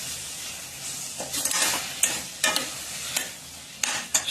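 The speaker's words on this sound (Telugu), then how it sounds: "ఈ 2 కంటిన్యూగా మిక్స్ చేయాలి స్టవ్ మీద పెట్టి" A sugar mixture being stirred in a pan on a stovetop over medium heat, with a spoon scraping and tapping the pan in repeated strokes over a soft sizzle, close and without talk.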